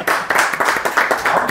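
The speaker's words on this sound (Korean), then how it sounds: "박수" About half a dozen sharp, evenly spaced claps, close and distinct, ring out on a golf instruction show as a studio group claps in a quick steady rhythm.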